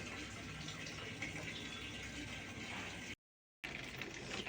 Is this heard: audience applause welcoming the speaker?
no